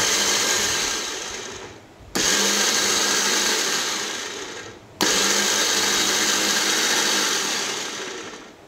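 A Tiger blender, a Japanese domestic 100 V model, runs in two loud whirring bursts that gradually wind down in pitch before restarting abruptly.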